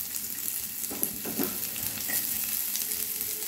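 Onions frying in a little oil in a wok for a veg burger filling give a steady close sizzle, with a few louder crackles and stirring scrapes near the start.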